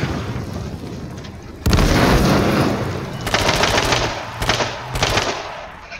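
Gunfire in the video game H1Z1: a loud burst of rapid automatic shots after a quieter stretch, then further clustered volleys of shots, close and harsh.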